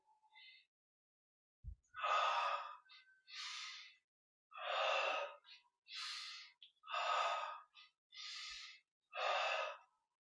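Sharp, breathy exhalations during a Yogoda energy-recharge exercise, several forceful bursts about a second apart, close and clear against near silence, with softer inhales between them.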